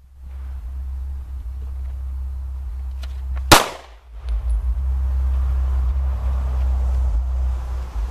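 A Kahr CW9 pistol fires a single sharp, loud shot amid steady low outdoor rumble, with the malfunctioning gun going quiet afterward and no further reports.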